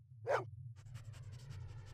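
Dog panting in the video game Blade Runner Enhanced Edition on Nintendo Switch, with a brief louder bark-like burst near the start followed by steady rhythmic panting breaths over a low constant hum.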